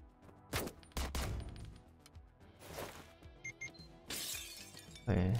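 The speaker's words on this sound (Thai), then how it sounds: "ได้ยิงนัดหนึ่งว่ะ" Gunfire in the video game Door Kickers Action Squad: a few sharp isolated shots at irregular intervals with glassy breaking and game effects, ending in a louder burst.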